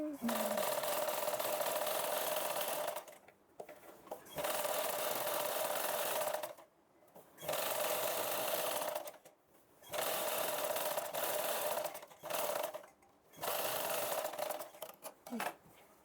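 A small sewing machine stitches boutique-style thread piping on a blouse, running in loud steady whirring bursts of a few seconds each, with short pauses between runs.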